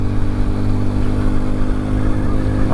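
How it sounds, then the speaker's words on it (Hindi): A motorcycle engine runs loud and close on a mountain road while misfiring, its steady drone broken by small irregular stumbles, with no talking. "अब नया मसला ये कि ये बाइक मिसिंग कर रही है"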